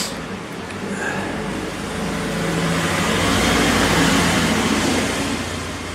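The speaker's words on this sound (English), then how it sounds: "You have to excuse the noise of the traffic" Road traffic passing outside a shop: a steady, moderately loud broadband rumble of vehicles that swells gradually toward the middle and stays continuous throughout, with no clear speech.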